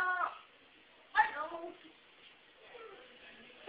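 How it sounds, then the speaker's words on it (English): A black-and-white house cat meows in a few short, high calls near the start and again around the middle, with fainter mewing toward the end; people talk around it. "What a crazy kitty, eh?"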